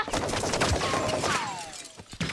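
Rapid bursts of gunfire in Call of Duty: Modern Warfare II, loud and close, crackling in quick overlapping volleys with a whistling streak passing through.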